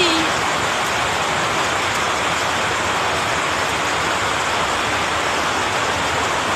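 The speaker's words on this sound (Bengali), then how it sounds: "আবার দেখো একদম ঝড় বৃষ্টি দেখাচ্ছি তোমাদেরকে" Heavy rain pours down in a dense, steady roar, loud and continuous from start to finish.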